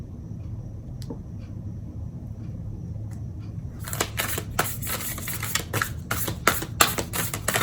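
Tarot advice cards are shuffled close up after a quiet start, making a burst of quick, crisp riffling and slapping sounds that grows louder and denser over the last few seconds.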